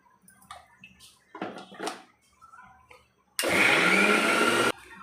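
A kitchen mixer grinder blends mint chutney into a smooth paste, a loud steady whir starting abruptly after a few soft clatters and running about a second before stopping.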